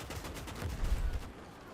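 A mortar shell strikes in the WW2 battle game Gates of Hell, a rumbling burst of deep impacts and crackling gunfire through the middle of a steady, noisy battlefield din.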